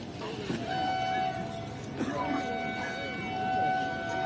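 A train at Bahawalpur railway station rumbles and creaks on the platform with a sustained horn tone, while voices murmur among the station bustle.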